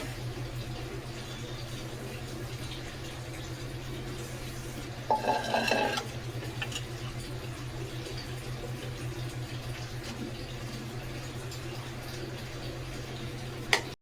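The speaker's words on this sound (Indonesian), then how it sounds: "Jadi sekarang aku mau cuci piring dulu ya." Dishes are washed by hand in a village home kitchen in India, with a burst of clattering plates and utensils midway over a constant low hum and faint background noise, no talking.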